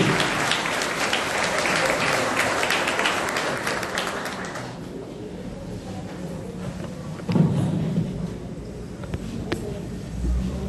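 Louder applause from a church congregation at a pro-life and adoption gathering fills the first half with dense clapping, then fades out, leaving quiet room noise and a few faint thumps.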